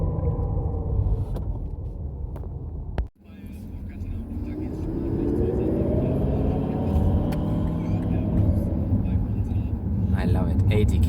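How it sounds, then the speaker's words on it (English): Toyota Mirai hydrogen fuel cell car accelerating to about 80 km/h, with a steady whirring ventilation hum from the fuel cell rising over the road rumble after a brief dip, while a person talks inside the cabin. "This must be like the ventilation system for the fuel cell."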